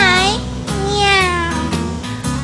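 A voice imitates a sleepy cat, giving two drawn-out, sliding meows followed by a few shorter vocal sounds, close and clear.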